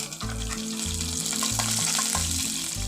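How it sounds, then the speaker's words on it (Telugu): Mustard seeds, urad dal and curry leaves temper in two spoons of hot oil in a pot on the stove, giving a steady, close sizzle and crackle with a low mechanical hum pulsing beneath. "కరివేపాకుతో తాలింపు పెట్టుకోవాలి."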